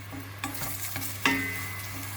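Onions sautéing in extra virgin olive oil, a soft, steady sizzle near the pan with occasional stirring clicks and a sharper clink partway through.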